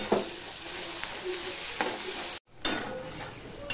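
Slit green chillies stirred into onions frying in a pan, a soft continuous sizzle with light scraping strokes and a brief dropout midway before the sizzle returns.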